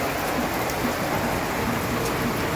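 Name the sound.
rain falling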